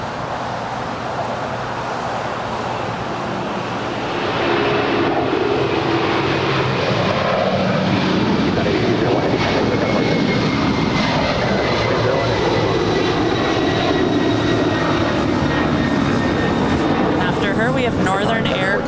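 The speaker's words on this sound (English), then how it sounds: "We have Northern Air Cargo off to Honolulu, flight 8201. It's a 767-300ER, 24 years of age." A 24-year-old Northern Air Cargo Boeing 767-300ER bound for Honolulu departs Los Angeles (LAX); its broad jet roar swells after a few seconds and holds loud and steady, with people talking underneath.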